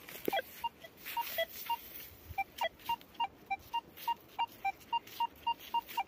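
A Versa metal detector sounding a series of short, evenly spaced electronic beeps, about two per second, clear and close over faint outdoor background.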